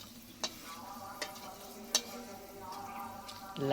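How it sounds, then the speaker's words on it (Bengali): Whole garam masala, dry red chillies and bay leaves fry in hot oil with a steady, soft sizzle. A few sharp ticks of spices popping or a spoon stirring break through the sizzle, with no talk. "আমি গোটা গরম মশলা দিয়ে দেব গোটা গরম মশলা শুকনো লঙ্কা আর তেজপাতা দিয়ে দিয়েছি"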